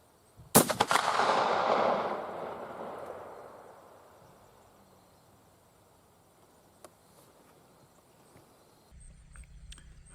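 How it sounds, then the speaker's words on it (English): A single loud muzzleloader shot from a CVA Optima V2 rifle cracks close by on a 100-yard range, followed by a long rumbling echo that slowly fades into quiet outdoor ambience. "So alright, let's shoot this second shot."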